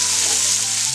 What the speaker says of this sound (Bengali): পেঁয়াজ কুচি, রসুন কুচি, হালকা ব্রাউন কালার করে ভেজে নেব।